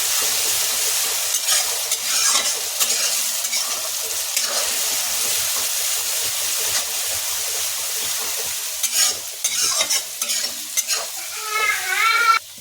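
Chilli and a little asafoetida frying in oil for dum aloo crackle and sizzle close by, with stirring clinks and scrapes that grow busier toward the end.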